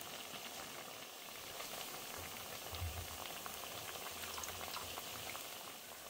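Jackfruit seeds and onions simmer in water in a pot for a mushroom masala, giving a faint, steady bubbling with soft pops and low gurgles. No voices are heard.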